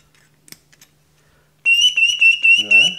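A handmade whistle is blown in short test blasts by its maker, producing a loud, piercing shrill tone in several pulses after a few quiet taps and clicks, with a faint voice near the end.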